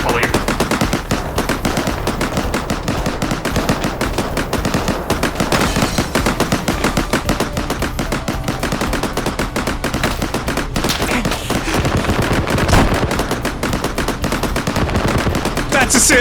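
Rapid video game gunfire rattles loudly and almost without pause, dense automatic bursts layered over one another with a few sharper shots near the end, while voices talk faintly underneath.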